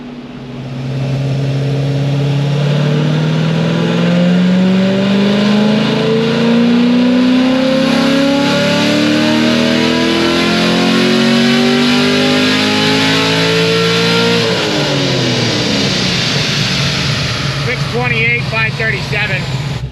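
Engine revving hard on a dynamometer during a full pull, a loud rising roar with climbing harmonics that peaks and drops off near the end, continuous and close throughout.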